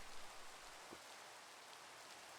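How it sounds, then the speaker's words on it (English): Soft, steady rain hissing in Minecraft, a faint even patter with no other sounds and no voices. "Well, it's raining now"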